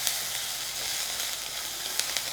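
Onions fry in oil with broad beans in a pan, an even close sizzle and hiss with faint stirring and a couple of small pops, no voices.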